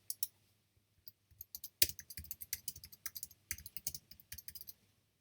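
Quiet, close typing on a computer keyboard, a quick uneven run of light key clicks with one sharper tap, no talk.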